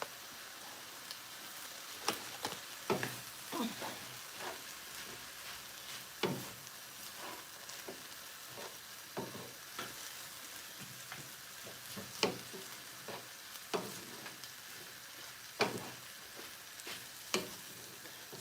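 Rice stir-frying in a hot pan for a quick home stir fry, giving a steady close sizzle broken by repeated sharp scraping and tossing clatters, with no talking.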